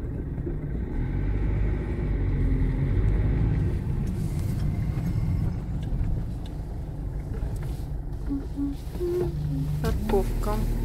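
Car driving through Izmir, Turkey, on the way to a hospital: a low, steady road rumble and engine hum from inside the cabin, with people talking over it.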